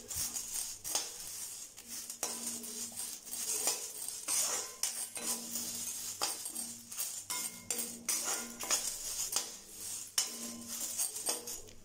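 Dry-roasted cumin and spices for a spice powder are stirred in a pan after the stove is switched off, with no sizzle. A metal spoon scrapes and clinks against the pan in uneven bursts, fairly quiet and close, with no speech.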